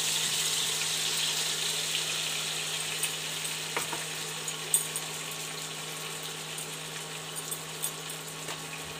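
Fried eggplant with mustard-poppy paste and green chili paste sizzles in a pan: a steady, close hiss with occasional small stirring clicks and no talking.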